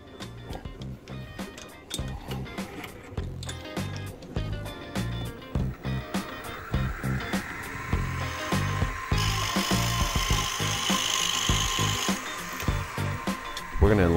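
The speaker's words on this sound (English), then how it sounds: "Now let's drill a hole in the base." A power drill whirs steadily while drilling a hole in the metal base of a steam engine, bit chatter and rapid mechanical clicks pulsing throughout, rising into a brighter, harsher whine near the end.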